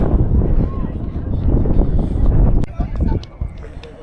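Strong gusting wind buffets the microphone beside the Giza pyramids, a loud continuous low roar with surges that eases slightly toward the end, with faint outdoor sounds under it.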